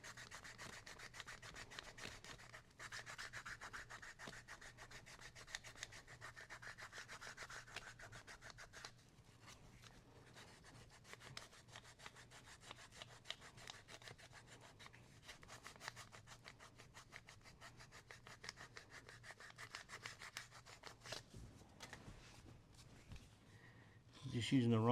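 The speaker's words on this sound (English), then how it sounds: "A little finish sanding." Leather belt edge being finish-sanded by hand, a steady, continuous rubbing rasp of abrasive on leather that runs for the whole stretch at moderate, close level, with a brief louder bump at the very end.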